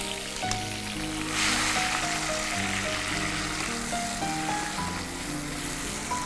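Tomato sizzles in a hot mix of oil and ghee, a loud, dense, continuous frying hiss and crackle that holds steady throughout.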